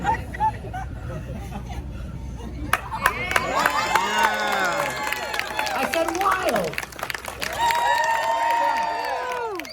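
A crowd claps and cheers with shrill whistles over a noisy room, after a brief spoken line.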